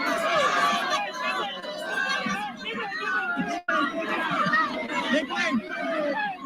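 A large crowd of supporters surges around Imelda Marcos, a dense continuous babble of many voices, shouts and cheers close by, with a brief dip midway; a narrator talks over the hubbub.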